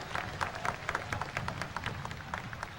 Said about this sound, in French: Nous mettons continuer à applaudir pour nous dire merci avec tout cœur